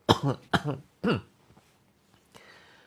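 Three sharp coughs in quick succession, then a few faint scattered sounds and a soft breathy noise near the end.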